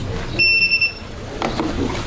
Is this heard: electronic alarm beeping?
yes